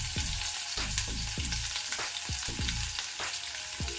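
Chopped green chillies and grated ginger frying in oil in a pan over a medium flame, a steady close sizzle with repeated scraping stirs of a spatula against the pan, no voices.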